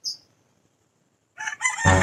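A rooster crows briefly, then after a short silence loud clucking and crowing burst out close by, ending in a dense, harsh squawk.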